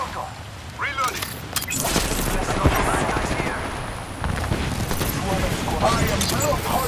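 Gunfire in the video game Apex Legends, scattered sharp cracks and bursts over a busy, continuous battle din, with in-game voices speaking over the shooting.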